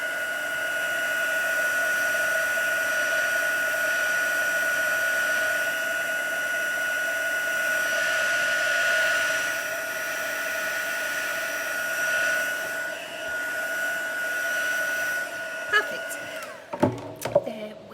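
A heat tool blows with a steady, close whine and airy rush for a long stretch while embossing an elephant craft design, ending with a few clicks and handling sounds.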